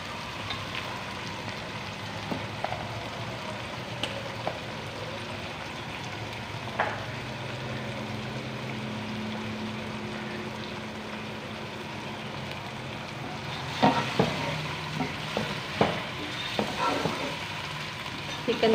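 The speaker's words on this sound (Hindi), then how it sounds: "चिकन को थोड़ा पिंक होने तक फ्राई कर लेते हैं।" Chicken pieces frying in a pot for biryani, a steady sizzle with scraping stirs that grow louder and more frequent toward the end.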